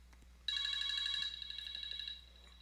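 A telephone rings with a bright, steady electronic tone that starts abruptly, holds for about a second and a half, then continues more softly before cutting off, over a faint hum.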